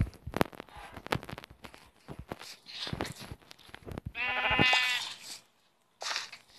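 Blocky sheep in a Minecraft survival game give a drawn-out, wavering bleat, surrounded by scattered clicks and short tapping game sounds, with a second shorter bleat near the end.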